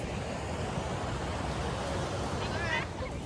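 Water waves washing steadily in a soft, continuous noisy rush, with faint background voices and a brief higher voice near the end.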